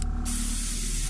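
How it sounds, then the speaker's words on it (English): A short steady burst of spray paint hisses onto the cobblestone base of a fire elemental miniature, close and continuous. "So we're going to go ahead and kind of spray right around there."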